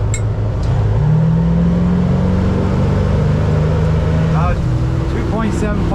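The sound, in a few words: 1998 Striper 2150 boat engine accelerating on water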